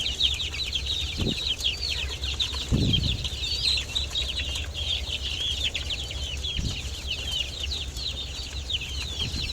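Village chickens being raised on fermented rice bran and banana-stem feed keep up a steady chatter of high chirps, with a few soft low thumps in the background.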